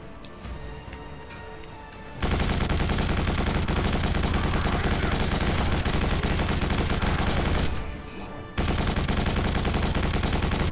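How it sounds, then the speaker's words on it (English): Rapid, continuous gunfire from Quake 4 combat, loud and dense, erupting after a quieter opening and pausing briefly near the end before resuming at full intensity. "Lots of shooting."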